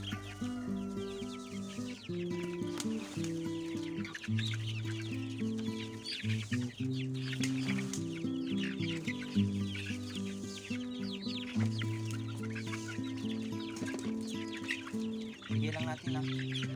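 Young chicks cluck and peep steadily while eating feed. A tonal clucking and chirping chorus carries on throughout, close by, with scattered light pecking and rustling noises.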